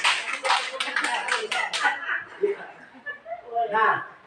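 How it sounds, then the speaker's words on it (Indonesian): A small group clapping hands in a classroom-style gathering, a short burst of claps at the start that fades into light laughter and talk. "Tepuk tangan untuk kita semua."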